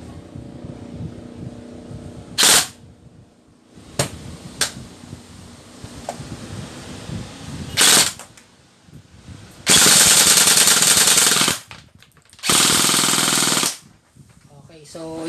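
A Slong Sabertooth airsoft gun test firing its stock magazine, heard as a few single sharp cracks followed by two long, loud buzzing bursts of rapid automatic fire, close by, with faint background voices.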